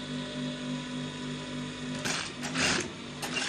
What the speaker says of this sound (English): So you're top stitching at this point here. Okay, so let's do that now.